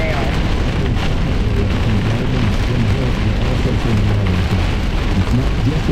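Heavy rain pours steadily during a severe thunderstorm in Iowa County, Wisconsin, a dense continuous roar with low thunder rumbling underneath, loud and close throughout.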